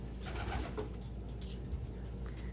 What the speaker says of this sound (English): This is a happy pigeon.